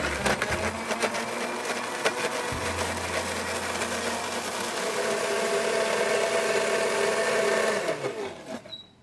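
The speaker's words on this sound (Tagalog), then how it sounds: "i-blender mo lang" A blender whirs loudly and continuously, its motor revving up as curry ingredients with a splash of cooking oil churn, close by, then winding down and stopping at the end.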